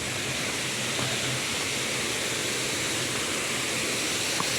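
Tai Tam Mound waterfall, swollen after rain, pours with a dense, constant roar of rushing water that stays even and unbroken throughout, with no voices.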